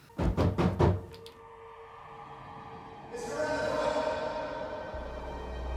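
Four loud, rapid knocks on a door by police open the sequence, followed by quiet room tone and then a rising low rumble.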